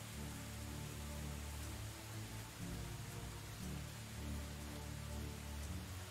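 Steady rain falls in Medieval Dynasty, a dense even hiss of drops on surfaces with a low rumbling undertone, continuous and unbroken from start to finish.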